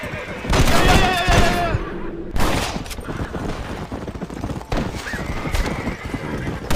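In Red Dead Redemption, a horse gives a loud whinny while its hooves clip-clop steadily, and sharp bursts of gunfire crack through the action and a voice speaks briefly.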